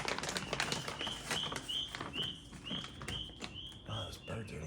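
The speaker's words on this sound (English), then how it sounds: "Oh, those birds are loud." Songbirds chirp loudly outdoors beside a 2014 Toyota Highlander under repair, a repeated series of sharp, bright calls at a steady rhythm, close and prominent over background clatter.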